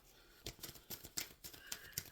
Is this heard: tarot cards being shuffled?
yes